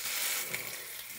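Pork backbone browning in a hot frying pan gives off a steady, bright hiss of sizzling fat, moderately loud and unbroken throughout, with no voices.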